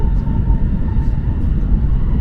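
Haruka express train running at speed toward Kyoto in the evening, heard from inside the carriage as a steady low rumble and rushing hiss with no break.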